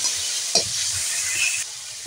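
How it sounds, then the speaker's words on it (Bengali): Onions salted and frying in a pan for a spicy Bengali kosha mangsho crackle with a loud, dense sizzle and hiss up close, a short stir clatter near the start, and no voices. "একটু নুনটা দিলে পেঁয়াজটাও বেশ ভালো সেদ্ধ হয়ে যাবে বা ভাজাও হয়ে যাবে তার সঙ্গে"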